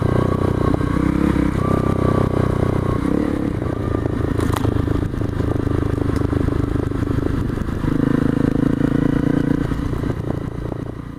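2014 Honda CRF250L dual sport motorcycle ridden down a little stream, its engine droning steadily and rising in surges, with scraping and clattering mixed in, close and loud throughout.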